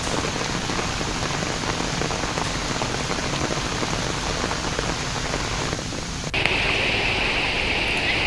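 Heavy monsoon rain pours down in flood-like conditions in West Singhbhum, a loud, dense, continuous roar of falling water that shifts to a brighter splashing wash near the end, with no voices.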